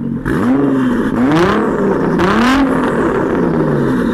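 A 2017 Nissan GT-R R35 with its 3.8-liter twin-turbo VR38 V6 revs through the exhaust in several rising and falling throttle blips, loud and close, with no talking.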